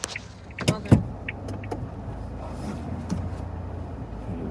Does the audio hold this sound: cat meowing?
no